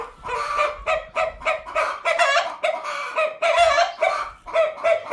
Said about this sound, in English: Yes, there's chickens. And noisy, noisy roosters.